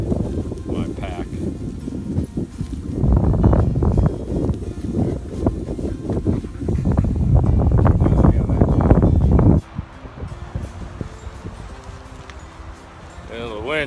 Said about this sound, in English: The wind's been pretty relentless.